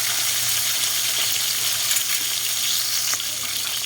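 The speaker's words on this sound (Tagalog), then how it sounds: "pag ipiprito mo siya ng konti para matanggal yung lansa" A salmon head fries in hot oil with a loud, continuous crackling sizzle that stays close and steady throughout, with no talking.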